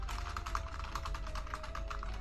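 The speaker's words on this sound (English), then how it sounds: "Can you hear my keyboard when I type?" Computer keyboard typing goes on in a quick, steady stream of close clicks and key taps, with no talking over it.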